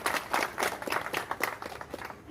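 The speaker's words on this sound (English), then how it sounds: "Let's give him a round of applause." A crowd at a Cleveland mayoral endorsement event applauds former Mayor Michael White, brisk, moderately loud clapping from many hands with a pulsing texture and no talk.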